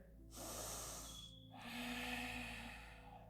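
Deep, slow breathing during a morning yoga session on mats, a long airy inhale followed by another drawn breath, close and quiet with a faint whistle on the air and no speech.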